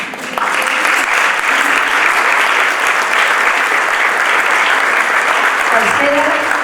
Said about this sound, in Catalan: Ja us podeu aplaudir.